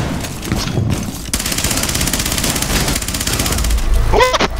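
Rapid automatic gunfire in Rainbow Six Siege sprays through a wall, a dense continuous burst of loud shots running almost the whole time, with a voice breaking in near the end.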